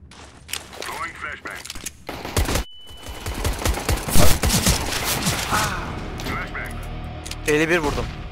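Sharp rifle shots and rapid bursts ring out in a Counter-Strike: Global Offensive match, some isolated and some in clusters, loud and close over a player's talking.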